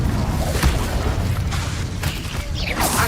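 Incendio fire spell in Hogwarts Legacy, a rumbling fiery blast with sharp crackling impacts and a whooshing sweep near the end, loud and busy with overlapping hits.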